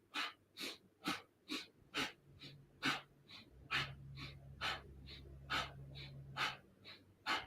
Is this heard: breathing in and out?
yes